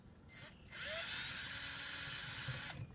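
A power drill with a 5/32 bit bores out a soft aluminum rivet in an umbrella mount. It winds up into a steady high whine that lasts about two seconds and then stops, heard up close with no talking.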